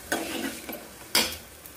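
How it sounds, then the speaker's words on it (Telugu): Ingredients for tomato chutney frying in a pan give a soft sizzle, broken by two scraping stirs of a spoon against the pan, the second one sharper. The sound is fairly quiet and close, with no speech. "ఇదిగోండి, ఇలా వేపుకొని పక్కన పెట్టుకోవాలి."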